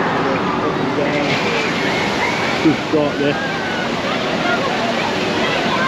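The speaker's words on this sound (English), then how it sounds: "Wild River, which is kind of a log flume just here" Rushing water pours down the Wild River log flume at a seaside amusement park, a constant loud wash of spray and flow, with someone talking over it throughout.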